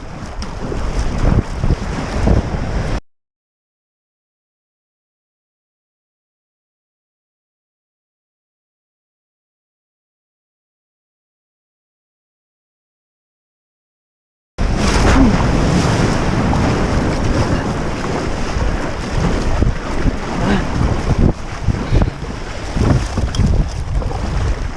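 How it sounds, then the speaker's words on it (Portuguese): Kayak launching into the sea in strong wind, with ocean waves breaking and surging loudly alongside heavy wind buffeting the microphone; a long stretch of silence cuts the roar in two. "Tá vindo onda!"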